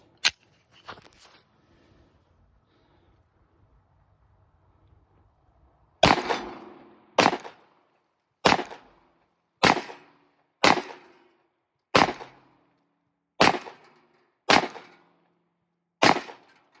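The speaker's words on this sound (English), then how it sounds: "Let's take a few shots with it." Gunshots from a Glock 29 Gen 5 subcompact 10mm pistol fired outdoors: one shot early, then a quiet pause, then nine sharp cracks at roughly one-second intervals, each with a short ringing decay.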